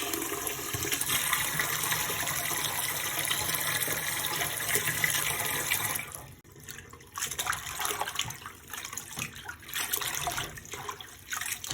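Washing water is poured off soaked Irish moss in a steady, rushing gush for several seconds, then it breaks into uneven splashes and trickles as the last of it drains, near and moderately loud, with no talking.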